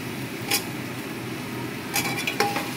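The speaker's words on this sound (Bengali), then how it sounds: "এই অবস্থায় আমি ভেজে রাখা আলুগুলোও দিয়ে দেবো।" Fried potatoes go into a pan of frying spices and get stirred, with a few sharp metallic clinks of a spoon against the pan over a low steady sizzle.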